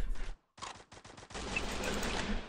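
Tommy gun fire in the Free Fire video game: rapid bursts of automatic shots, a short burst, a pause, then a series of distinct shots and a sustained stream of continuous fire, loud and close.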